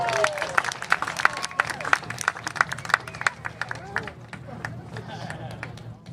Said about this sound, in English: Let's give Andrew a big round of applause.